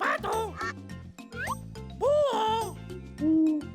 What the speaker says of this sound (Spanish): ¡Búho!